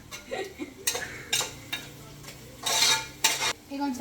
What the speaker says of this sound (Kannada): ಈರುಳ್ಳಿ ಸ್ವಲ್ಪ ಫ್ರೈ ಗೋಲ್ಡನ್ ಬ್ರೌನ್ ಕಲರ್ ಬರಲಿ